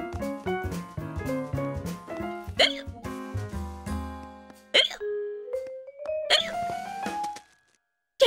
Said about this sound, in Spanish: Llevo con este hipo...